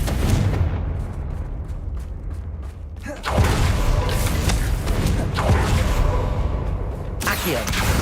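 Confringo blasting spell in Hogwarts Legacy, heard as a loud crackling burst that erupts and keeps rumbling amid other noisy game sounds, with a sharper burst near the end.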